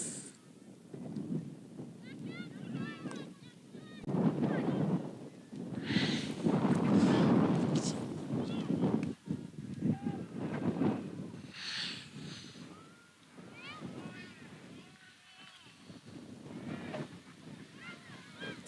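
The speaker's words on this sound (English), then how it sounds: "getting a little windy out here right now" Gusty wind buffets the microphone in rising and falling rushes at an outdoor girls' soccer match, with water and outdoor noise beneath and a person speaking intermittently.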